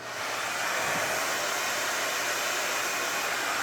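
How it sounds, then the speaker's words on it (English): A hair dryer runs steadily on a low fan setting with no heat, powered through a 3000W 12V pure sine inverter, a constant airy hiss with no interruptions after it starts. "we're going to plug this hair dryer. We're going to put it on low fan, just the fan, no heat."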